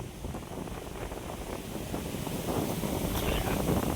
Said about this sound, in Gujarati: પવન ચાલુ છે